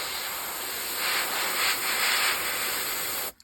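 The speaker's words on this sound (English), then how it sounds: "always like try and airbrush away from the edge" Airbrush spraying paint onto a vintage 1/72 scale Airfix Mosquito model: a close, steady airy hiss with slight pulsing bursts for about three seconds, then the spray stops.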